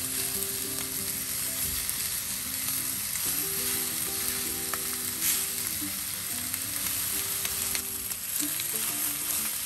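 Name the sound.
oxtail pieces sizzling as they brown in a pan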